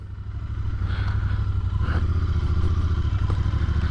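A Royal Enfield INT 650 motorcycle engine runs steadily at a smooth, even idle-to-cruise rhythm while riding, close and fairly loud, with a faint rattle.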